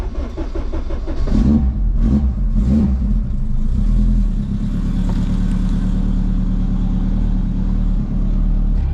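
A right-hand-drive Honda Civic wagon warming up: a loud, close engine rumble with a few quick revs near the start, then a steady idle that drones on without talk.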